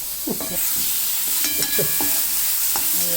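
Masala and vegetables sauté in a pan, with a steady sizzle under repeated scraping and stirring strokes, close and moderately loud with no talk.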